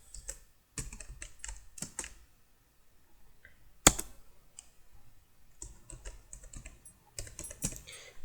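Keys clack steadily on a computer keyboard as Java code is written, bursts of quick keystrokes broken by short pauses and one sharper tap, close up with no voices.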